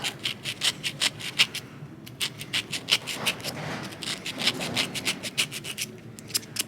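A file rasps down a burnt steel ring on a 1970s HEI ignition part, in regular close strokes with brief pauses between them and no talking.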